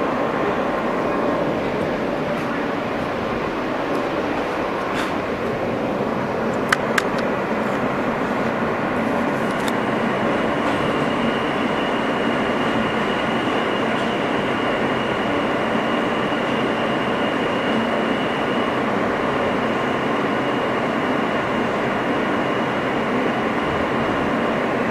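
An R160 subway car on the Manhattan-bound F line rumbles steadily from the inside, a loud continuous roar of wheels and motors with faint squeals and clicks near the middle.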